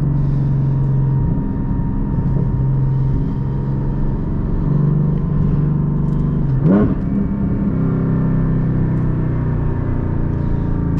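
Hot-rodded DeMan 4.5 engine in a 2023 Porsche 718 Boxster Spyder droning steadily from inside the car, with rising and falling revs, a quick sharp blip partway through, and a constant rumble underneath.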